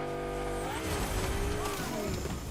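Car drifting in the Fortnite video game, a steady engine drone with rising, sliding squeal-like tones and tire skid noise holding throughout at a constant level, with faint voices underneath.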